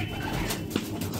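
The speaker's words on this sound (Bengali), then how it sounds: "এটা আমার একটা ঘরের মাদি পায়রা।" A female Madrasi pigeon kept in a home loft coos softly and closely, a brief low rolling call with no other sounds.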